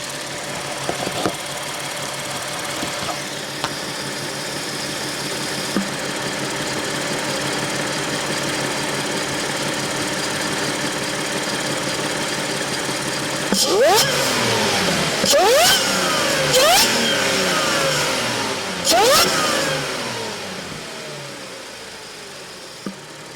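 A supercharged Audi B8.5 S4 engine, heard right at the intake, idles with a steady hum and whine, then blips through three sharp, loud revs, each rising and falling quickly.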